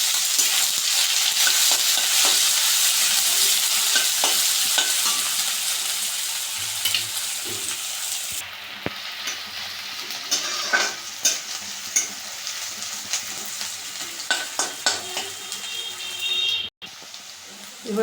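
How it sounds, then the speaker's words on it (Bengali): Chopped onions fry with nigella seeds in hot oil, a bright continuous sizzle that eases off midway while scattered stirring clinks and scrapes carry on; a voice talks now and then. "কালো জিরে ফোড়ন দিলাম, পেঁয়াজ কুচোনো"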